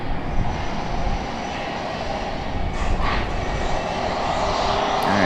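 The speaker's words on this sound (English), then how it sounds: "APU is doing its thing." An Embraer E175 jet's auxiliary power unit runs at Raleigh-Durham International Airport, a steady, loud broadband roar and whine holding constant throughout, with no talking.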